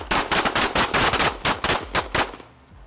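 A quick string of gunshots at a shooting range, sharp close reports fired in rapid succession with a brief tail, loud and without talk.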